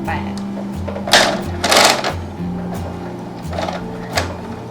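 A sewing machine stitches fabric for a quilted retro bag in short bursts of rapid mechanical whirring and clatter, with brief pauses between runs, while someone talks over it.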